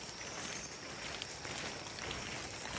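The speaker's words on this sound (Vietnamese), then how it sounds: "Trời mưa," Rain pours steadily in a forest near a bee cave in Cao Bang, a dense, unbroken wash of falling drops that fills the whole moment without letup.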